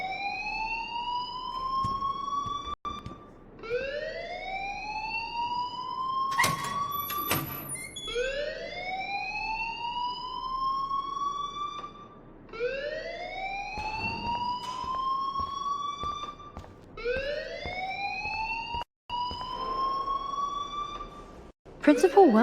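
An electronic alarm in the video game Life Is Strange wails in repeated rising sweeps, each tone climbing then holding before restarting, steady and loud with brief clicks and interruptions between cycles.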